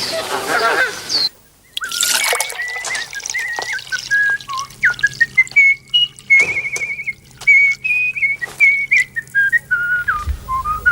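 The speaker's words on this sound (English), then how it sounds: "That's a nice whistle." Someone whistles a wavering melodic tune, clear and close, in a run of sliding notes with short gaps, preceded by a brief burst of voice and noise.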